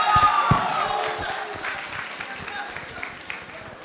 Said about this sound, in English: Come on, guys, clap.